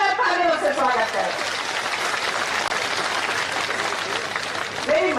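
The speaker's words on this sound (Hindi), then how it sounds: "एक बार जोरदार तालियों से स्वागत करें" Loud, sustained applause from a crowd at an outdoor political rally in Sikar, Rajasthan, welcoming speakers; a voice speaks over the clapping at the start and again near the end.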